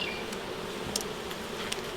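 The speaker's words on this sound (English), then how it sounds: "The bees are hard at it." Honey bees hum at an open beehive in a soft, steady drone with a few faint clicks and taps. The sound is quiet and close, with no voices.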